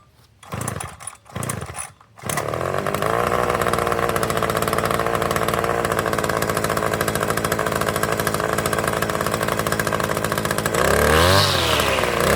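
A Southland gas string trimmer engine sputters through a few short pulls, then catches and runs at a loud, steady buzzing idle close by, with a brief rev near the end.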